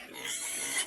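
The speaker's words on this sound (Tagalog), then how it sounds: "Silipin natin ang baboy" A pig grunts in a brief, rough, close snort that lasts under a second, heard alone.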